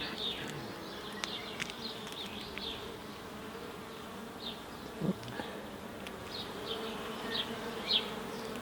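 Honeybees buzzing over an open hive frame with brood and soft propolis: a steady, quiet hum of many bees close by, with brief louder buzzes as single bees fly near, and no talk.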